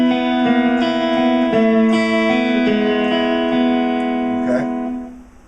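Electric blues guitar fill picked with upstrokes that catch the open first and second strings, ringing harmonic notes played alone with a slight effects-driven tone, fading out at the end.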